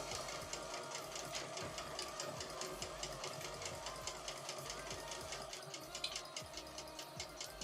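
A sewing machine stitches a quilt seam for a mystery quilt, running in a steady, rapid mechanical rhythm close by for the whole stretch with no talk.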